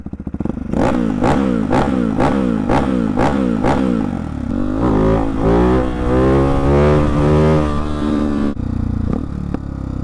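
A Husqvarna-style Hyper 698 motorcycle with a full titanium exhaust revs hard in a rapid series of loud blips, then winds up in a long throaty rev before dropping back, close and powerful.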